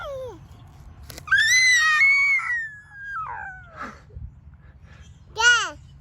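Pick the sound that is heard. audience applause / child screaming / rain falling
child screaming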